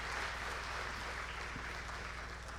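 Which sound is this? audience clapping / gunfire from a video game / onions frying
audience clapping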